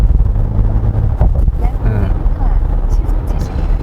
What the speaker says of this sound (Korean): 지금 스포츠 모드로 탈 때 이 액티브 사운드 디자인의 가상 사운드가 꽤 듣기 괜찮은데요